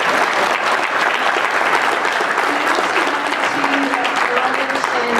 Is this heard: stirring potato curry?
no